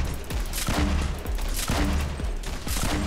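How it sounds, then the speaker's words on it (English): Rapid gunfire and explosive booms from a Fortnite match, with dense repeated bursts and thumps running continuously and loud throughout. "Yeah, I'm shooting him."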